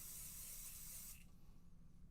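Pixie spray from an aerosol can hisses onto a craft stencil in one close, continuous burst lasting about a second, then cuts off into quiet room tone.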